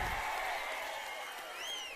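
Crowd applause at a crowded political rally in Pattikonda: a steady, dense wash of clapping and crowd noise throughout, distant and even, with a faint voice or whistle rising briefly near the end.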